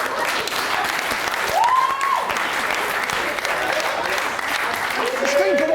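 A live audience applauds loudly and steadily throughout, a dense wash of clapping with occasional whoops and voices calling out over it.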